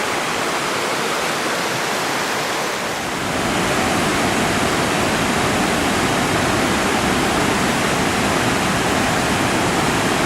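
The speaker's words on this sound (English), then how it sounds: "Whitaker Falls on the Elk River, main Elk." Whitaker Falls on the main Elk River roars as a steady, loud, broadband rush of falling water. It starts slightly softer for about three seconds, then fills in fully and holds continuous, with no voices.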